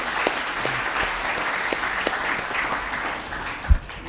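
Seminar audience clapping together in a hall, a steady even round of applause with a few sharper claps standing out and a soft bump near the end.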